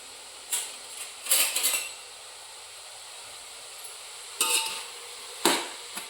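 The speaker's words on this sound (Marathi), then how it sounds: "सारखं हलवत राहायचं आहे खाली लागू नये म्हणून." Carrots for gajar halwa being stirred in a pan, several separate scraping and clinking strokes of a spoon against the metal, a quick cluster early on and two sharper strokes near the end, over a faint steady hiss of cooking.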